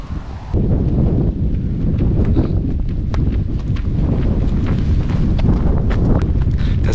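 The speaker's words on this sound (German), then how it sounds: "Das ist ja schon gut windig hier heute Vormittag im Münsterland." Strong wind buffets a GoPro Hero 9 microphone outdoors in the Münsterland countryside on a gusty morning, a loud, steady roar of rumbling gusts that fills the whole clip after a brief quieter start.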